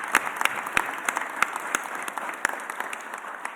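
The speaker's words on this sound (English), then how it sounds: "let's give the Eagles organization another round of applause." An audience at a mayor's press conference applauds, a steady patter of many hands with sharper individual claps standing out, fading slightly toward the end.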